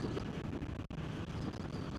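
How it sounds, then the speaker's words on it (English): Steady, heavy wind buffeting the microphone of a rider sitting on a motorbike outdoors, a continuous low rumble with one brief drop partway through. "Why is it so windy?"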